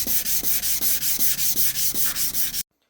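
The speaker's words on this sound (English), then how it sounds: "Right now I'm down to 800 sandpaper, and the headlights has a lot more smoothness to it." A car headlight lens on an SLK 280 sanded with 800-grit sandpaper: steady back-and-forth rubbing strokes, about a dozen, close and loud, ending abruptly in silence.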